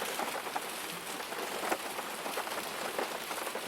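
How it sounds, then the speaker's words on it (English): Steady rain patters on a surface, a soft continuous hiss with scattered drops, gentle and even throughout. "And you listen to that beautiful rhythm of the rain."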